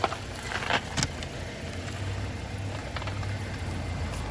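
A car's engine idles with a low, steady hum while the car creeps slowly forward during a flat tire rescue, heard fairly close under faint background noise.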